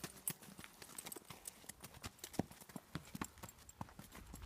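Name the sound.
horse hooves clip-clopping during riding lesson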